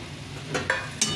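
Cauliflower tipped into a spiced sesame masala in a pan: a soft sizzle under quick scraping stirs, with three sharp bursts of frying and clatter close by.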